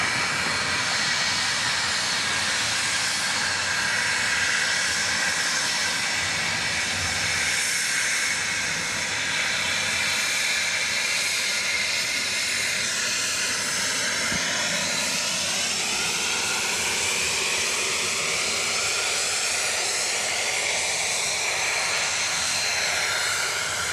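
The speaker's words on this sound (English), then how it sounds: "We've got an AirShare Embraer Phenom 300 right now, just kind of taxiing in front of us" Embraer Phenom 300 business jet taxiing at Dallas Love Field at night, a steady, moderately close turbine whine and broad hiss holding across the whole stretch, with a slowly shifting rising tone near the end.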